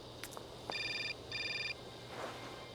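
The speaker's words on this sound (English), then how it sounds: "Another phone call." A telephone rings twice in Syberia, each short burst a bright electronic trill, the pair separated by a brief gap. Clicks come before the rings and a soft murmur follows. The sound is fairly quiet, with no voices.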